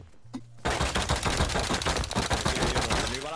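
Rapid bursts of Tommy gun fire erupt after a short pause, a dense rattling stream of shots in the video game Rust, loud and close.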